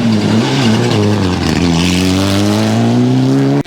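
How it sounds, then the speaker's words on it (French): A Mitsubishi zero car opening a rally stage in freezing weather roars close by, its engine note climbing through gears in loud, rising harmonic sweeps with no talk over it. "C'est la Mitsu, la 0 qui ouvre."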